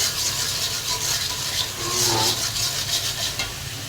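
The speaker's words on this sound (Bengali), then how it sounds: "এখানে আমি মশলাটাকে ভালো করে বেজে নিচ্ছি" A spice paste of garlic, onion, turmeric and chili fries in a pan, a loud close sizzle under continuous rubbing, scraping stirs of a spatula, with no talking.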